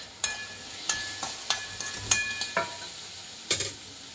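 Tomatoes go into a pan of sizzling green chili and prawn thecha, and a soft steady sizzle runs beneath a series of sharp clinks and scrapes of a utensil stirring against the pan at irregular intervals.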